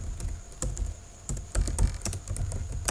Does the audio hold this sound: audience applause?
no